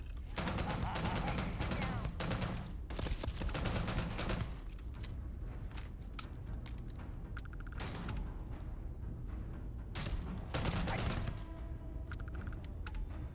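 Gunfire from the space shooter video game Starfield, with sustained rapid bursts and dense volleys from combat aboard a ship, loud and continuous throughout with brief lulls.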